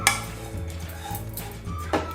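Grated coconut dry-roasting over a low flame in a pan, stirred with a spoon that scrapes and clinks against the metal in steady strokes, close and fairly quiet, with no voices.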